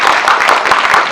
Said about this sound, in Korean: 두 분께 박수 좀 부탁드리겠습니다.